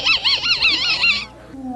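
At a bird calling contest, a person whistles a bird call imitation, a loud, close warbling trill that wavers rapidly for about a second before trailing off into softer sliding tones.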